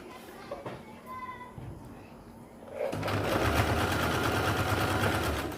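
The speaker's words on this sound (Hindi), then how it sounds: "तो यहाँ पे हम सिलाई लगाते हैं।" A sewing machine stitches piping onto fabric, starting up after a few seconds of quieter sounds and then running in a fast, steady, close-up whir that carries to the end.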